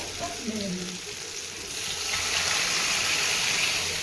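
Lentil dal poured into a hot tempering of dried chili and mango in a pan, a steady sizzle and hiss that grows fuller after the pour.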